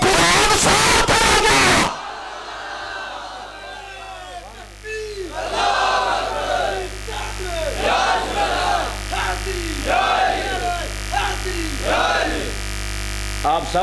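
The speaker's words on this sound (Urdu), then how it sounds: "آپ سب نے نعرے کا جواب دیا ہے." After a loud burst, a crowd at a religious gathering in a mosque shouts back in repeated unison slogan responses over a steady electrical hum, with a leader's voice between calls.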